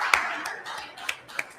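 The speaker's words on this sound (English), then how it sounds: "So big round of applause to Lake" Scattered hand claps start up among a conference audience, a few sharp, separate claps over a faint murmur rather than full applause.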